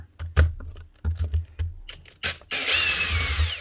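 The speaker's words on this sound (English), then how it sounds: "And that's just 4 screws to pull out the motor." Screws come out of a Bosch professional hammer drill to free its motor: close clicks and small metal rattles, then a steady bright whirr from a screwdriver near the end.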